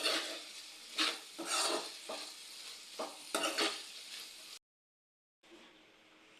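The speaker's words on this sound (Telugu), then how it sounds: "ఇప్పుడు కర్రీని ఒకసారి మంచిగా కలుపుకుందాం." Beans curry stirred in a pan, a spoon scraping through it in several distinct rhythmic strokes over a soft sizzle, then a brief silence before the frying hiss returns.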